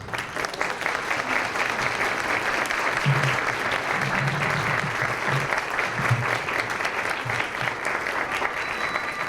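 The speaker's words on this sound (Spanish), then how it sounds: "Un aplauso, por favor." Audience applauding at an award ceremony for the Ponciano Arriaga recognitions, sustained dense clapping from a sizable crowd throughout, with a few voices faintly audible underneath.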